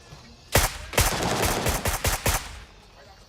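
Gunshots in the shooter game Gray Zone Warfare: a quick series of about seven loud, sharp cracks in rapid bursts, close and dominant, between quieter ambient stretches.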